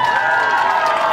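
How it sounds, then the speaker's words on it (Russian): A concert crowd applauds and cheers at an evening festive Victory Day celebration in Kingisepp, a loud, dense, continuous roar of clapping and shouting voices close by. "Эти громкие аплодисменты для вас."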